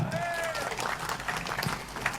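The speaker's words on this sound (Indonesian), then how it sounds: "tepuk tangan lagi" Audience applause at a community gathering in Indramayu, a steady moderate patter of many hands that runs through the short clip, with a whistle or cheer near the start and crowd murmur underneath.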